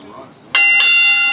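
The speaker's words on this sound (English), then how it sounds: "Ref calls for the bell." Ring bell at a heavyweight championship wrestling match, two sharp metallic clangs in quick succession ringing out loudly and sustaining.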